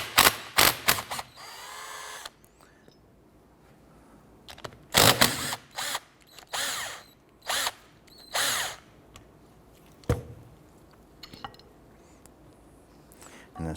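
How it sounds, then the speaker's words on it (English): A ratchet with a 14mm socket loosens the brake caliper slide pin bolts on a 2006-2013 Chevrolet Impala rear brake. Bursts of rapid clicking ratchet action come close up and loud, with quiet pauses between them. "we're going to use a 14mm socket. We're going to remove our slide pin bolts here."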